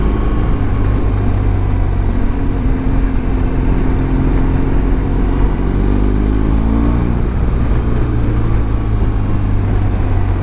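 A small BMW convertible drives past, a loud, close engine drone that holds steady, with a rising and falling pitch sweep as it passes and no talking.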